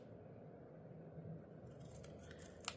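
Scissors cut paper for a handmade shaker card, faint close snipping that picks up in the second half with a few quick crisp cuts over low room noise.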